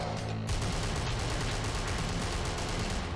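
Rapid, continuous gunfire in the video game Suffer, a dense, loud barrage of shots running without pause after a brief quieter opening, with no talking over it.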